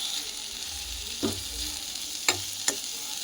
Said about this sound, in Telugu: టమాటాలు ఫ్రై కానిద్దాం.